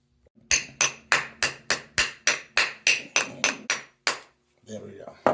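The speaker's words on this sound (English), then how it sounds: "now we're just going to hammer that out" About fourteen sharp metallic hammer strikes on a gold dollar coin being shaped into a ring, in a steady rhythm, close and loud, followed by a brief rustle at the end.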